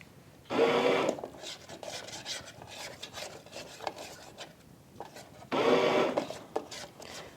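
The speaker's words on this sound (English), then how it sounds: "now it is time for us to scrape down the sides." A spatula scraping down the sides of a bread machine pan while mixed berry jam cooks, heard as two loud, gritty scraping bursts of about a second each, with softer scraping and rubbing between them.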